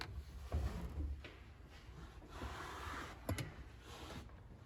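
Plastic trim panel inside a Chevrolet Tahoe pried loose near the door, giving faint scattered clicks, creaks and a couple of sharp snaps at close range in a quiet interior.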